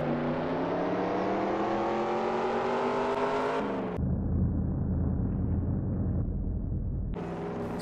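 A video game car roars through an acceleration race, its engine note climbing steadily through the gears, with loud continuous revving broken by a sharp gear shift and then a lower, rougher drone.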